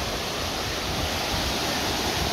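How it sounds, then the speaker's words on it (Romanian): The river and waterfalls at Cascadele Șipotului make a steady, dense rush of falling water. The sound fills the whole clip evenly, with no pauses and no voices. "în dreapta avem râul și cascadele"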